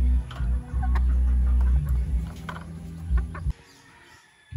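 Gamefowl stags and pullets at a game yard clucking and calling, several close birds overlapping over a low background hum before dropping off near the end.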